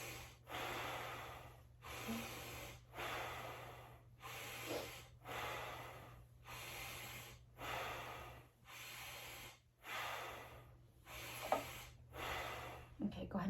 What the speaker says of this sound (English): When I place my stethoscope, go ahead and take a deep breath.